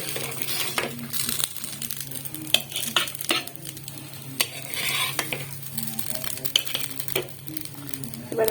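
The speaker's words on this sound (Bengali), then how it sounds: "এখানে আমার কাটলেট ভাজা একদম রেডি হয়ে গেছে। এবার আমি একে একে তুলে নেব।" Oats cutlets frying in a pan and being lifted out one by one, with soft sizzling under a series of sharp utensil scrapes and clicks against the pan, close and intermittent, no talk.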